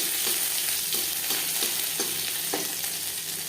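Garlic fries gently in oil with chillies for a mashed taro-leaf dish, a continuous close sizzle broken by regular scraping strokes of a spatula stirring the pan.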